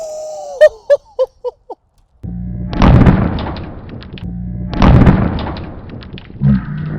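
An airsoft grenade on a 3.5-second timer bursts with a loud, rough blast that swells and fades, followed by a second similar burst, after a few short exclamations from nearby voices.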